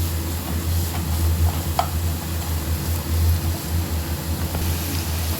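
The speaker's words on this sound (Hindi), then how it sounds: "देखिए हम इसे इस तरीके से मिक्स कर लेंगे और इसे थोड़ा सा भून लेंगे।" Manchurian balls being mixed and lightly shallow-fried in a pan, a steady close sizzle with soft stirring scrapes running unbroken throughout.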